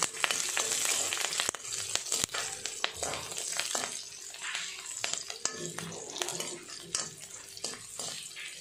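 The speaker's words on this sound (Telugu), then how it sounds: "కొంచెం వెల్లుల్లిని కూడా వేసేసుకోవాలి. ఇలా వేసేసుకున్నాక కొంచెం అలా వేగనివ్వాలి." Garlic and ginger frying in a pan for coriander pachadi, a quiet, steady sizzle broken by frequent clicks and scrapes of a spoon against the pan over several seconds, with no voice heard.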